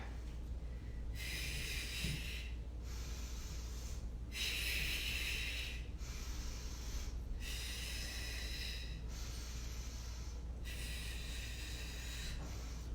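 Rhythmic yoga breaths during a hot yoga class, with long, airy inhales and exhales alternating steadily at close range over a low room hum, without talking.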